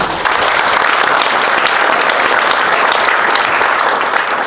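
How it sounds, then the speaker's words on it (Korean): A forum audience at a peace and security event in Pyeongtaek applauds steadily: dense, loud clapping from many hands that holds an even level throughout, with no talking. "따뜻한 박수 부탁드리겠습니다"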